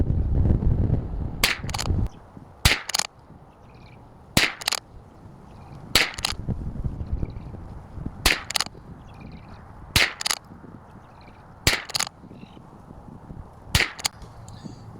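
Sharp .22 rifle shots from a Bergara BMR-X firing ELEY match ammunition, eight evenly spaced cracks about every one to two seconds, each loud and abrupt with a short ring, over low rumbling background noise and no talk.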